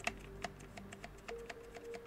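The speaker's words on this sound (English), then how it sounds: "it goes from being a mechanical keyboard that makes this noise" A mechanical computer keyboard clicks under steady typing, with scattered irregular keystrokes at a soft, close level over a faint hum.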